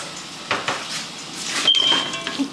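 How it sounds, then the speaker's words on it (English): Ceramic dishes clink and a metal spoon rattles as it is picked up in a kitchen, a few close knocks followed by a brief bright ring. "let me get a spoon"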